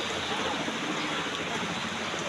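Steady heavy rain at Mirpur bus stand, Kushtia, a loud, even wash of falling water filling the whole moment without pauses or talk.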